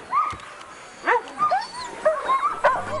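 Several sled dogs bark, yip and whine excitedly in quick overlapping bursts, close by and fairly loud, with no talking.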